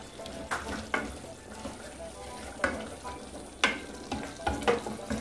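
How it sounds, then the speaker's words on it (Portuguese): Chicken pieces fry in a pan for stroganoff, releasing their juices, with a continuous soft sizzle broken by repeated scraping stir strokes at an uneven rhythm, close and moderately loud. "E essa aguinha aqui é a água do frango mesmo, que quando ele vai fritando, ele vai soltando essa aguinha."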